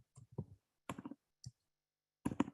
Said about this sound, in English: I'm gonna type it in